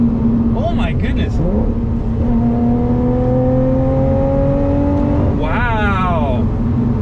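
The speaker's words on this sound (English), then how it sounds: "the moment it comes on boost, wow, that supercharger whine" Lotus Evora GT supercharger coming on boost, a rising mechanical whine layered over the engine note, with steady engine drone and a brief burst of engine sound near the end under occasional talk.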